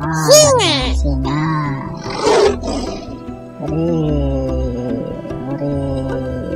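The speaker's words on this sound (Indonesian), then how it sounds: "namanya anak singa." A lion cub's roar rises in a loud, harmonic, growling burst at the start, followed by further grunting roars and voices mingled in a children's animal-learning setting, with talk continuing over and between the calls.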